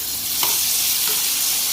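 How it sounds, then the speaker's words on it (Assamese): Pieces of brinjal fry in a pan, giving a loud, continuous sizzle with two soft stirring scrapes and no voices. "অলপমান বেঙেনাখিনি ভাজি ল'ব লাগিব"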